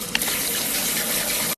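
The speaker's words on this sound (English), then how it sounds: "Rinse your potachis in cold water." Cold water gushes steadily from a kitchen tap over thin potato slices, a loud, close, continuous rush that cuts off abruptly at the end.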